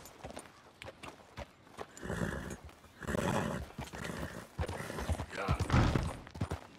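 A horse in Red Dead Redemption 2 whinnies and snorts loudly up close while its hooves clop in an uneven rhythm beneath, with several bursts of neighing over the stretch.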